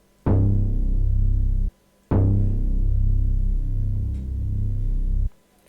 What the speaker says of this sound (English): I went and chose a bass sample that sounds like this